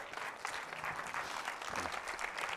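Congregation applauding in a church service, a dense, continuous wash of clapping from many hands, even in level and somewhat distant, with no voices rising above it.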